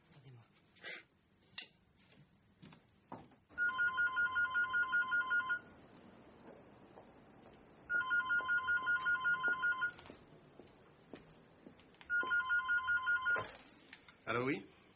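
Telephone ringing in three loud electronic trilling bursts a few seconds apart, with faint movement, breathing and noise between the rings.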